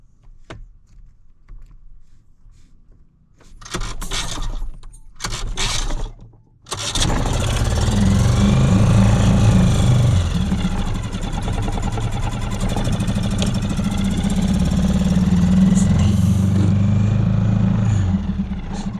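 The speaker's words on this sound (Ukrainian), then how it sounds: "поки наш двигун працює на холостих, до речі, це приблизно 1200 обертів" A small Suzuki DF6A outboard motor sputters through a couple of start attempts, then catches and settles into a steady, loud idle at about 1200 rpm that drones on.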